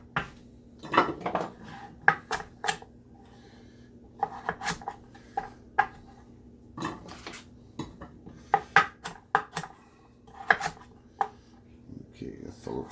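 Damascus steel kitchen knife slicing through pork chops on a board, irregular clicks and knocks scattered across the span, with soft talk between the cuts.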